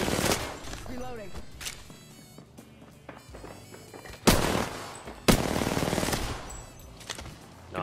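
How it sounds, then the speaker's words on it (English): Bursts of automatic gunfire in Apex Legends come in irregular volleys, with two loud, close bursts near the middle and end and quieter shots and game noise between them. A voice is heard in places. "I'm just aimlessly shooting."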